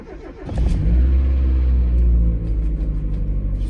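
A 1994 Mazda Miata's engine cranks briefly and catches, settling into a steady, close rumbling idle with no one talking.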